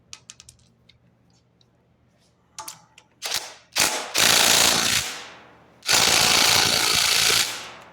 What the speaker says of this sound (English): We grab our ratchet